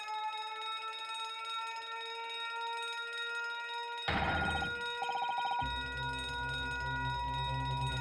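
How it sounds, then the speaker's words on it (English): An electronic alarm rings in The Great Ace Attorney video game, a shrill, steady bell-like tone that grows busier and more clattering partway through, with layered game sounds underneath and no talk. "That's the alarm going off."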